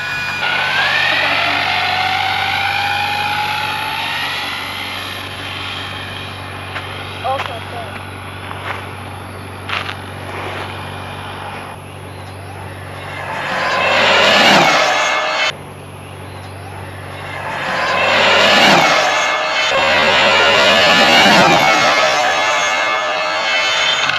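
An ARRMA Limitless RC car with a Castle 1721 2400Kv motor makes two high-speed passes, its whine swelling loud and fading each time, with a high tonal sweep early on and people talking between the runs.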